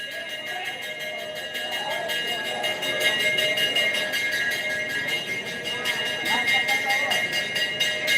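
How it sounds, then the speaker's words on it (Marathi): A bell rings in quick, steady strokes to open the morning onion auction at the Solapur onion market, holding through the whole stretch over a busy crowd murmur with some voices. "घंटा वाजत आहे"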